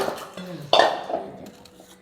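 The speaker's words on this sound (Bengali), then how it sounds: "সেই কলপারে এসে বাসন মাজতে হলো" Dishes, pots and pans clatter and clink while being washed at an outdoor tap, a few close metallic knocks and scrapes with one sharper clang in the middle, fading toward the end.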